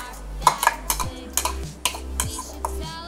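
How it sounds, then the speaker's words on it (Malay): Thick ground tempoyak (fermented durian paste) being stirred and scraped in a bowl, with irregular clinks and knocks of a utensil against the side, close up. "Bancuhkan dulu tempoyak yang telah dikisar tadi."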